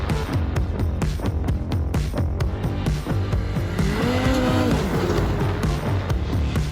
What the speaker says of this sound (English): This is the best ergonomically designed snowmobile I've ever ridden.